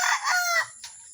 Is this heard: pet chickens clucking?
yes